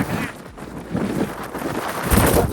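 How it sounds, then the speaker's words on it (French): Strong gusting wind blasts across a ski slope in snowy mountain terrain, a steady broadband roar that swells and buffets the microphone, loudest near the end. "On va entendre que le vent, mais c'est une dinguerie."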